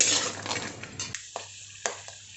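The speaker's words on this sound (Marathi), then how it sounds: "बदाम काजू हे दोन्ही पण आपण तळून घेऊयात" Almonds and cashews frying in a pan: a soft sizzle fades after about a second, then a few sharp clinks of a utensil against the pan ring out in quiet, close and fairly faint.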